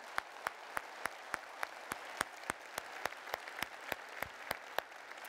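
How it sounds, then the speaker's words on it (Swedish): Audience applause at a Christian Democrat party conference for municipal and regional politicians in Sweden, settling into steady rhythmic clapping in unison, evenly spaced beats from a large crowd heard at moderate distance, with no voices over it. "En särskild applåd till dem tycker jag."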